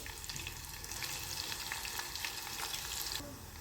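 Cumin and mustard seeds frying in hot oil for a tempering, a dense close crackling sizzle that runs continuously and fairly loud, with small pops throughout.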